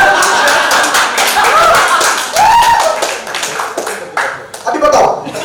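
An audience at a Hindi conference skit claps in a busy burst of overlapping hand claps, mixed with talking voices and some laughter throughout.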